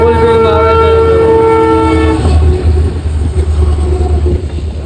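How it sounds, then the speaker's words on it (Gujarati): Loud freight train passing close on the railway, a long horn blast at the start giving way to a heavy rolling rumble of wagons. "રેલગાડી આવી ગઈ છે. તમે જોવો તો ધમાટી ફૂલ ગાડી હાલી આવે છે."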